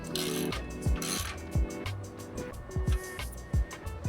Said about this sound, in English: we can go ahead and properly torque this down to your desired tension